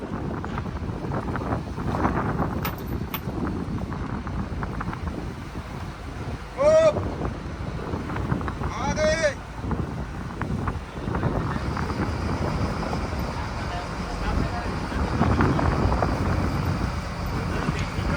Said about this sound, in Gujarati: રાત થઈ ગઈ, પવન બી વધી ગયો અને ઊંધો મોજો થઈ ગયો